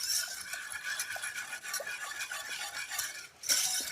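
A tart filling with milk and lime zest is mixed by hand, producing quiet, close, continuous scraping and light utensil clinks against the bowl, with a slightly louder stroke near the end.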